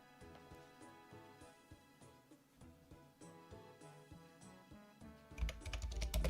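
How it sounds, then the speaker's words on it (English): Keys clatter on a computer keyboard in quick, uneven bursts, fairly quiet and close, with a brief louder thump near the end. "typing makes a lot of noise"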